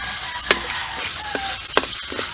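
Crushed garlic sizzles steadily in a hot pan with oil for Filipino garlic fried rice, a continuous frying hiss broken by a couple of sharp stirring clinks and scrapes.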